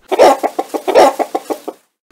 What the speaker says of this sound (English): I've got this black hen in a white box.